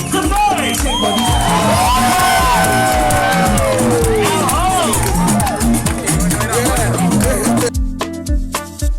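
A live crowd at a launch event whoops and shouts loudly over pounding rhythmic music, a dense roar of voices and cheering that cuts off near the end as the music thins.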